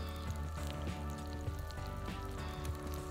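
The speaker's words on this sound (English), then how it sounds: "It's sizzling nice." Food, including a potato, sizzles over a campfire at a lakeside campsite on a solo canoe trip, giving a steady close crackling hiss with scattered pops throughout.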